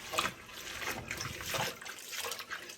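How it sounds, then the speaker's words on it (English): Mixed greens dropped into a pot of water for a vegan soul potlikker, giving a soft, continuous trickling and splashing of liquid close by with no talk. "Then I just pop it in the water."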